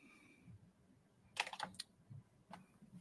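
Close computer keyboard typing during robot-design work: a quiet stretch, then a quick cluster of sharp key clicks and one later isolated tap.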